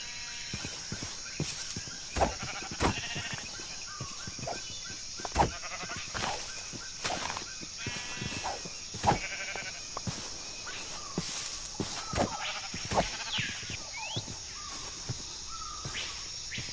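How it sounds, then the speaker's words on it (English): Sheep in the Minecraft video game bleat repeatedly, with several short calls spaced through a quiet stretch, accompanied by faint game ambience and soft clicking steps. "But more importantly, I have sheep."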